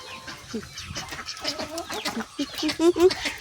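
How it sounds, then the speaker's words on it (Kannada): Chickens cluck in short, pitched bursts that grow louder toward the end, mixed with background voices and farmyard noise. "ಕೋಳಿ"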